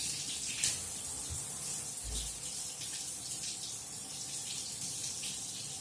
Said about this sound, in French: Il faut rincer jusqu'à ce que l'eau devienne blanche.